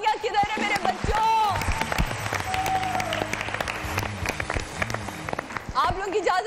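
Studio audience clapping and applauding at a Pakistani singing competition show, steady broadband applause filling most of the stretch with a host's voice and music tones rising over it.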